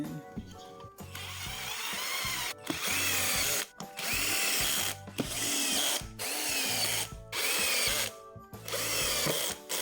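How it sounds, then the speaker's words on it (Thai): A power screwdriver drives screws into the lid of a DIY Bluetooth speaker cabinet. It runs in about six loud, close whirring bursts of roughly a second each, with short pauses and clicks between them and no talking. "ปิดฝาตู้เสร็จแล้วก็ อัดด้วยไขควงอีกทีนะครับ"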